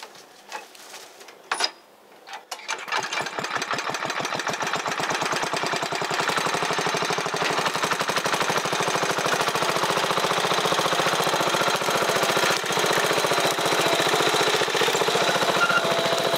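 A vintage 60cc McCulloch chainsaw starts after a few brief pulls, then runs continuously with a loud, rapid, rattling two-stroke drone, close by, while cutting up a blown-down tree.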